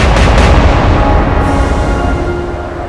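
A naval gun salvo fires in the warship game Atlantic Fleet, a loud, heavy boom right at the start that rolls into a long rumbling decay with no voices.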